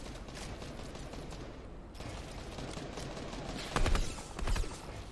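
Rapid bursts of gunfire crackle through a video game match, a steady stream of shots with louder, heavier blasts near the end.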